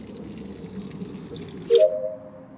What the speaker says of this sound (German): und mal ein bisschen Wasser rumpumpen